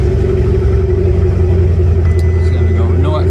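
An Abarth 595 salvage car's engine running just after starting in a garage, a steady loud low rumble and hum at idle, close by and unbroken for a few seconds.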